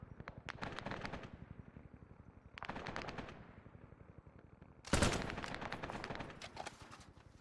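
Bursts of rapid machine gun fire from the video game Arma 3 rattle out in three long volleys with quieter gaps between, the last burst loudest, with no talking over it.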